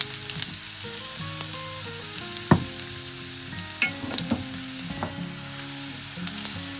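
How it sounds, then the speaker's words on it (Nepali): Garlic frying in a pan, a steady close sizzle with occasional stirring clinks and scrapes, heard alone without talk. "मैले लसुनलाई पुराउँदैछु"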